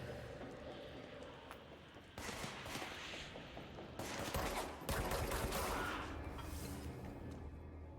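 Gunfire from a gun in the video game Control sounds as faint bursts of rapid shots and blasts under game ambience, with a voice speaking at low level.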